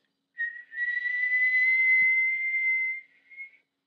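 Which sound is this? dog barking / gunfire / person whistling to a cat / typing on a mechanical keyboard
person whistling to a cat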